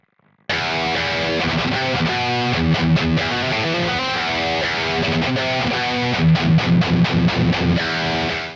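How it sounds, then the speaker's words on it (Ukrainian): An electric guitar with single-coil pickups plays an overdriven part that is loud, close and continuous. Strummed chords and picked notes run through the whole passage, with a denser rhythmic burst near the end. "сінгли в нас, окрім того, що вони можуть фоніти на перегрузі, вони дають більш чіткий та пробивний сигнал"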